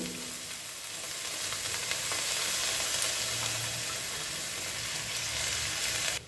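Gram flour coated with vegetables, including broccoli, fries in a pan and hisses with a steady, loud sizzle after a sprinkle of water, the crackle holding unbroken for several seconds before cutting off abruptly.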